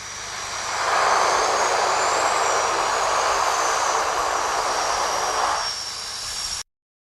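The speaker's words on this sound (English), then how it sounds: "The pilot must have thought that it's a beautiful day to take this twin otter on a skiing trip." A de Havilland Twin Otter landing on a ski trip, with a broad, steady propeller-turboprop roar that swells quickly, holds loud and close for several seconds, then eases off before cutting out abruptly.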